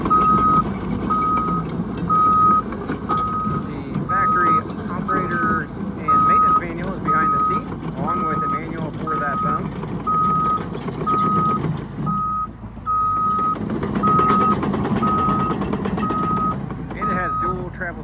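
A Caterpillar 315F excavator travels across a job site, its reversing alarm beeping in a steady, evenly spaced rhythm over loud engine noise, with a brief lull near the end before the beeps resume.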